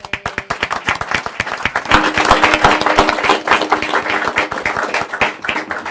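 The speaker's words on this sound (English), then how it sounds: "Okay, now we can applaud." A city council work session audience applauding, many hands clapping in a dense, sustained burst that swells partway through and holds loud to the end.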